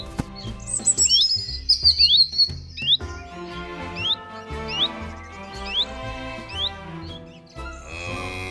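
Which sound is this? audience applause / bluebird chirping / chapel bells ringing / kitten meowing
bluebird chirping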